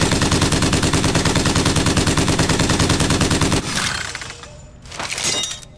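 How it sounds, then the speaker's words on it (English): A crank gun in a video game fires a loud, steady, rapid stream of shots for several seconds, then stops, leaving two short rumbling bursts and a fading tail. "Hold up, crank gun."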